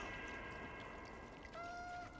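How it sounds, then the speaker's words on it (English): A cat meows in the video game Stray, a single drawn-out rising cry near the end over a steady hum of ambient game noise. "No, but there's meowing around."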